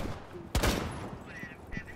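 A single sharp gunshot in the game Rainbow Six Siege cracks out loudly and briefly, followed by faint background game noise and light chatter.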